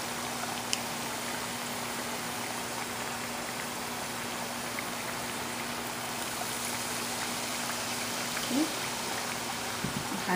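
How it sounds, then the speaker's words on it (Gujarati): Hands are rinsed under running water in a home kitchen during cooking, a steady close hiss of flowing water throughout with a low hum beneath. "હાથ ધોઈ લો એક સેકન્ડ."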